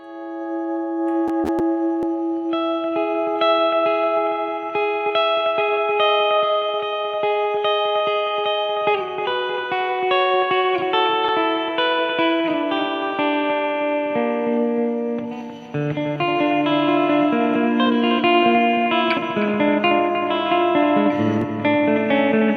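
An electric PRS guitar plays chords and melodic lines through effects with reverb and light distortion, continuous and fairly loud, with no voices.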